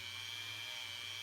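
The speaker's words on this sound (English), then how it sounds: "going to use my 600 grit sander Dremel and just" A Dremel fitted with a 600 grit sanding attachment whines at a steady high pitch while polishing the soldered joint of a 14k gold ring. The sound is close, constant and fairly quiet, with no voices.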